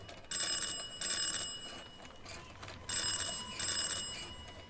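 An electric calling bell keeps ringing in repeated bright bursts with short gaps between them, loud and close, with no voices over it.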